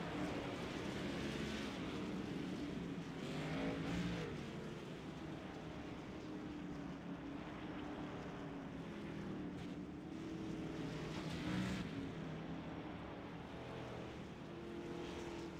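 Race cars roar steadily around the Eldora dirt track during a yellow-flag period, a continuous loud engine drone with slight swells as cars pass, no talking.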